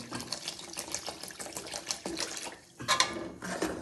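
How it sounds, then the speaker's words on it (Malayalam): Vinegar pours into a pan of lemon pickle with garlic and ginger, a steady liquid splashing and trickling that runs close and moderately loud, briefly pausing before resuming. "കുറച്ച് വിനാഗിരി ഒഴിക്കുന്നുണ്ട്"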